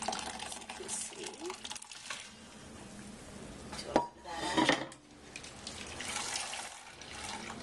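Lentil broth being drained through a colander into a bowl, a rushing pour of water with clattering pot and utensil knocks, close and busy, with a voice speaking over part of it.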